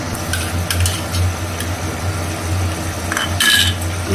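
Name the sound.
adding cashew paste to fish curry in a pan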